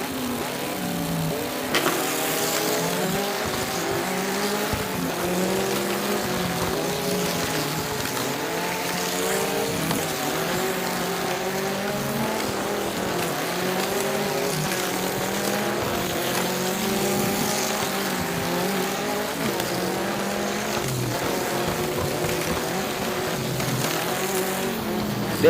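Motorized diecast toy cars racing on a track, a steady whirring motor hum with wavering pitch sustained throughout, fairly loud and close.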